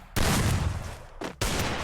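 Gunfire in a 1v1 shooting video game comes as two loud, dense bursts of rapid shots, split by a short gap with a quieter tail between them.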